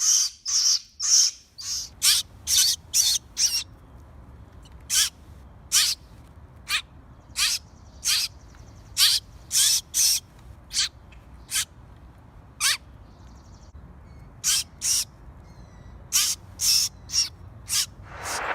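Orphaned baby bird being hand-fed, giving sharp, loud, repeated chirps in quick bursts separated by short quiet gaps, alone with no talking.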